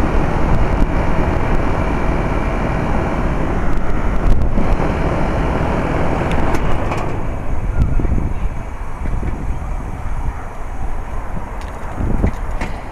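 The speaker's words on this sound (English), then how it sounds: "Hey, it's windy out here." Strong wind blowing outdoors beside a 2-ton heat pump, a loud continuous buffeting rush across the microphone with gusts throughout.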